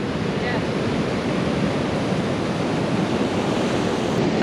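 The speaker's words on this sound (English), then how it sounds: "Yeah, some big waves." Big ocean waves crash and wash continuously on a beach, a steady loud roar of surf with no clear talk.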